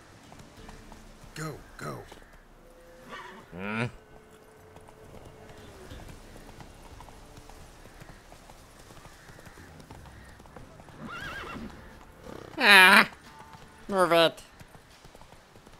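Horse hooves clip-clop at a gallop with short neighs and snorts in The Witcher 3, someone talking and urging the horse on over the game's ambient sound.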